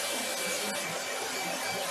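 Steady whooshing hum of a heat tool drying texture paste for a wash technique craft project, a continuous close airflow drone without pause.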